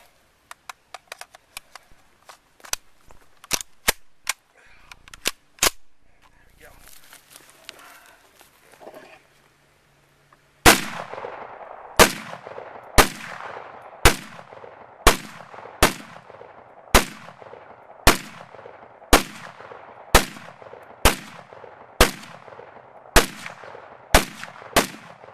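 Israeli FN FAL rifle firing a full magazine outdoors, loud evenly spaced single shots roughly one per second, each with a ringing echo, after scattered quieter clicks and handling noise.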